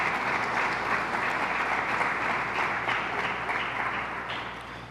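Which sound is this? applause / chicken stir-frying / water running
applause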